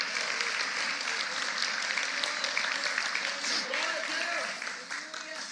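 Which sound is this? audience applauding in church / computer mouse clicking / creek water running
audience applauding in church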